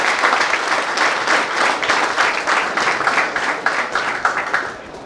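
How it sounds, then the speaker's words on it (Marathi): Applause for a teacher in a college classroom, a dense burst of many hands clapping that holds steady and then tapers off slightly at the end. "ह्या टीचरसाठी एकदा जोरदार टाळ्या होऊ शकतात"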